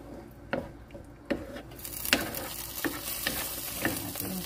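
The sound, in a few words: stirring garlic and herb pasta sauce in a pan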